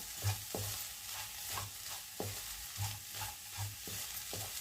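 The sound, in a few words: stirring tomato egg fry in pan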